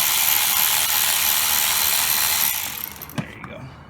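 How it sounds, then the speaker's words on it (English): A ratcheting tool clicks rapidly and steadily while tightening a hose clamp on the radiator of a 2004 Mercedes-Benz CLK500, close and fairly loud for about two and a half seconds before fading into a few isolated clicks. "Let me tighten this clamp up here so I don't lose it"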